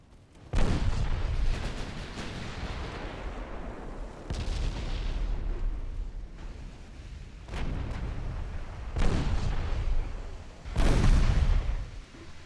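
Main guns fire in a naval battle video game, five heavy booming salvos at irregular intervals, each with a long rumbling decay, loud and without voices.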